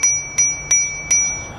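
Bell on a custom Cannondale Trail mountain bike converted to a Bafang BBS02 750W electric bike, rung four times in quick succession, each bright ping sharp and close with a short ringing decay.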